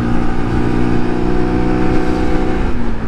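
A Lexmoto RSS Street 125cc motorcycle engine revving steadily under opened throttle, a loud, close, continuous buzzing drone that holds even throughout.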